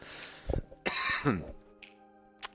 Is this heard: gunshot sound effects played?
no